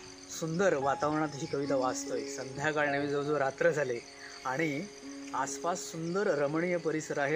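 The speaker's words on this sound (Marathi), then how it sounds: "रातकिड्यांचा आवाज येतो आहे आणि मध्ये मध्ये बेडूकसुद्धा ओरडत आहेत" Crickets trill steadily as evening turns to night in a quiet outdoor spot, a thin, faint chirring heard underneath someone speaking and reciting.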